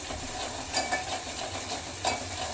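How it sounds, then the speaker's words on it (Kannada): Green chillies frying in a pan, a steady close sizzle with a few soft spatula scrapes as they are stirred, no talking. "ಇದು 2 ನಿಮಿಷ ಫ್ರೈ ಮಾಡಬೇಕು."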